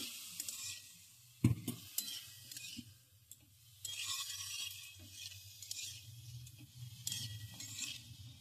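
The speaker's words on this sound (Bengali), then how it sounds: "এরপর সবগুলো আমি ভালো করে মিশিয়ে নিচ্ছি" Atta noodle ingredients being mixed with salt, a utensil scraping and clinking in short irregular strokes against the pan, close and fairly quiet, with a faint sizzle underneath and no talking.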